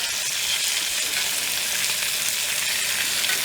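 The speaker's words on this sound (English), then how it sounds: "you take some of your butter and oil mixture and herbs and spoon it up over" Steak sizzling hard in a hot cast iron skillet while butter, oil and herbs are spooned over it, a loud, dense, unbroken frying hiss close up.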